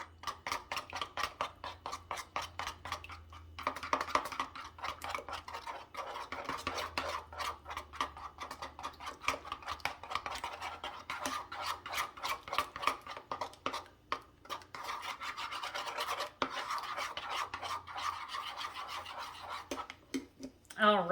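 Carrot apple slaw stirred with a utensil in a bowl, producing continuous scraping, clinking and rubbing for about twenty seconds with brief pauses.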